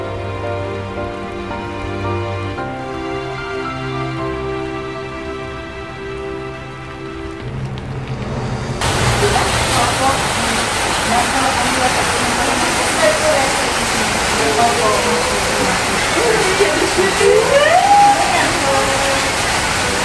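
Heavy rain pours down on a playground and garden outside an orphanage, starting abruptly partway through as a loud, dense, steady hiss that drowns out the softer tones before it and continues to the end.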